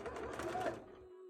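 Sewing machine running a topstitch along a bra, a short, soft steady whir that stops suddenly before the end.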